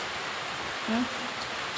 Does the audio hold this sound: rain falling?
yes